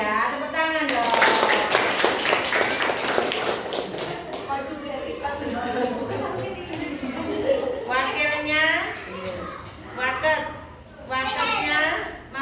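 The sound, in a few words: audience clapping hands at school meeting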